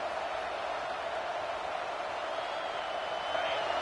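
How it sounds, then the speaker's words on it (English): A stadium crowd in the college football video game NCAA CFB 26 roars in a constant, dense wall of noise that holds steady throughout without a break. "It's early, but this crowd is fired up. Listen to this noise here."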